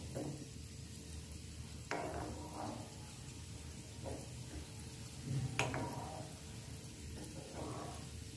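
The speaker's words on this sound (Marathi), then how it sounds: "नंतर गॅस कमी करायचा, म्हणजे मग आपले गुलाबजामुन चांगले तळले जातात आतपर्यंत" Gulab jamun fry in oil over a low gas flame, making a faint, steady sizzle and hiss with a few soft scraping and tapping sounds from stirring.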